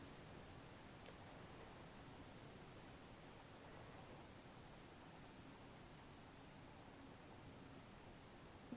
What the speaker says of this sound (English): as we get towards the end where it's very light, we're going to take more and more pressure off of our pencil